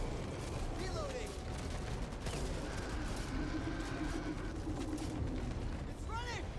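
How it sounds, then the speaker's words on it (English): Sniper rifle reloading in the Back 4 Blood video game: metallic ratcheting clicks and mechanism sounds, partly buried under dense, steady gameplay noise and distant gunfire. "Reloading."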